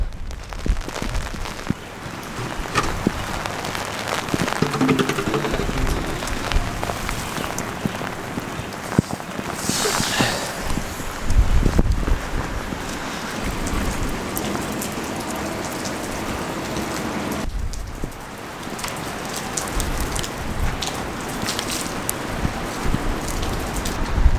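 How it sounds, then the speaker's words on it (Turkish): Heavy rain hammers down on a farm during a storm, a loud, dense and continuous patter on surfaces nearby, with a brief louder gust of wind-driven rain midway. "Yağmur çok şiddetli arkadaşlar. Bir de üstüne fırtına var."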